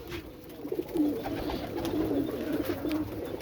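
Pigeons coo in a steady, overlapping murmur at close range, the soft rolling calls of a large flock of fancy pigeons, including teddy and raisin-type birds kept for sale, with no voices over them.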